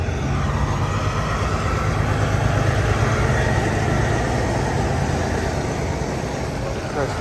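A steady, loud roar of traffic passing nearby, with the rumble of trucks holding constant through the whole stretch and no clear break.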